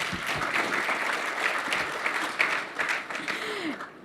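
A conference audience at a security technology summit panel applauds the speakers, a steady wash of many hands clapping at moderate volume that fades toward the end, with a faint voice briefly audible.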